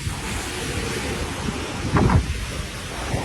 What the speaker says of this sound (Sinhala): මේ වතුර සේරම ඉතින් ඇලහැර පැත්තෙන් යනවා